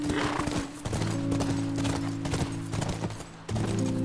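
Horse hooves clip-clop in The Last of Us video game, a close, steady rhythm of hoof strikes over a game soundtrack with a low tonal drone, and no one speaking.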